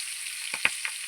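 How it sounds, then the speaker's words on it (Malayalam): Freshly caught manjakoori catfish frying in a pan in a home kitchen, a steady background sizzle broken by three sharp pops close together near the middle. "നമ്മളിപ്പം പിടിച്ച മഞ്ഞക്കൂരി നമ്മൾ ഫ്രൈ ആക്കി വറച്ചുകൊണ്ടിരിക്കുക കേട്ടോ"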